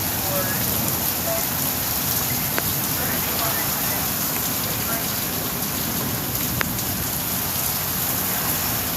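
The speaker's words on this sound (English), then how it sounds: "Very heavy rain." Heavy rain pours down steadily during a severe thunderstorm, a dense, even roar of drops hitting surfaces, with a couple of faint sharp ticks and no break in the downpour.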